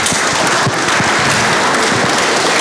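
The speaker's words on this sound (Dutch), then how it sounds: "En je kan natuurlijk even een applaus geven voor Alexander bijvoorbeeld." Dense, crackling applause from an audience at a New Year's gathering held in a church, steady and fairly loud for the whole stretch with no talk over it.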